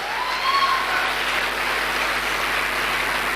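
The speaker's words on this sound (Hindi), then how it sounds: "तो ऐसे लीडर के लिए जोरदार तालियां" A business seminar audience claps for a network-marketing leader, a dense, steady wash of hands sustained at even loudness throughout, with a faint whistle-like tone rising briefly near the start.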